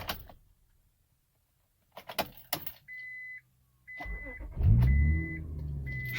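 A sixth-generation Honda Accord starts up with a key: keys jangle, a few warning chimes beep, then the starter cranks and the engine catches into a steady, close idle.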